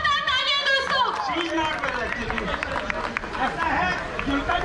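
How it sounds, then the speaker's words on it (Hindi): A crowd at a picnic and annual general meeting claps for an experienced elder, a dense patter of applause under loud overlapping talk and cheering voices. "और इनको जोरदार तालियां दो इसको"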